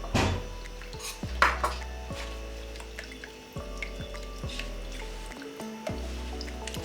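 A spoon stirs salt into clean water in a bowl, making repeated close metallic clinks and scrapes against the dish in an uneven rhythm, with light watery swishing between strikes.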